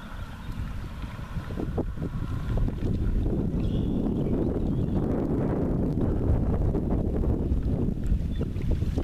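Steady wind rushes over a sailboat out on the water on a warm, breezy day, a continuous close buffeting with no talk.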